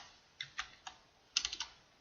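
Keys on a computer keyboard are tapped to enter a terminal command. A few sparse clicks come first, then a quick cluster of keystrokes, soft and close in a quiet room with no voices.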